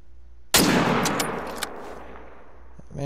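A gunshot in a hunting video game fired at a large caribou: one sharp, loud blast at the start with a long echoing tail rolling away, then quiet ambience and a faint click near the end.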